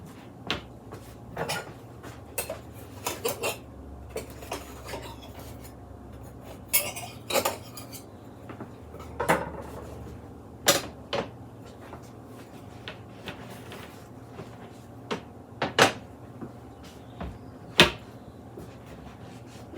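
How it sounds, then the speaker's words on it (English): A knife scrapes and clinks against metal bread loaf pans in a kitchen, giving scattered sharp metallic taps and knocks with quiet stretches between them and no speech. "I just like to run the knife around the edges and then pop them"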